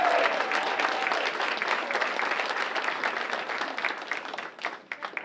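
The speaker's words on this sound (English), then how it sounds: "So give yourself a nice round of applause." A roomful of about 150 seniors at an elder abuse awareness event applauds steadily and loudly, sustained clapping throughout that thins out in the final second.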